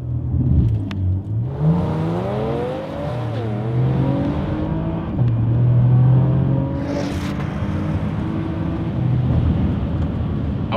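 A Porsche Macan Turbo with RaceChip tuning accelerates, the engine note sweeping up through gears with loud, steady rises and brief shift dips, heard from close by without talk.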